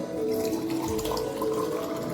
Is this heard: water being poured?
yes